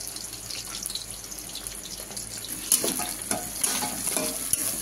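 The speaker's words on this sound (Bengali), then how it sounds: "আগে পেঁয়াজ কুচিগুলো একটু ভাজা ভাজা হোক" Chopped onions fry in a pan after capsicum, a soft continuous sizzle with occasional scraping stirs and clinks rising toward the end, no voices.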